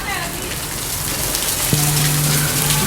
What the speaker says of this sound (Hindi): इट्स वेरी प्रीटी बारिश।